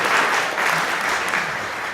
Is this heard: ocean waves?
no